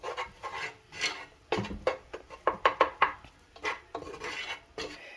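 Flour being whisked into hot cooking oil in a pan for a roux for gravy, heard as close scraping strokes and quick knocking taps of the utensil against the pan in an irregular rhythm.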